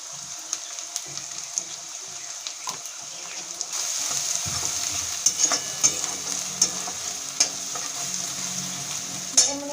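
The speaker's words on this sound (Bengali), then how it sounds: "পেঁয়াজটা ভাজা হচ্ছে, ওর মধ্যে 1/2 চামচ মতন ঘি দিয়ে দেবো" Steady sizzling of onion frying in ghee in a pan, close and continuous, with occasional scraping stirs and clinks of a utensil.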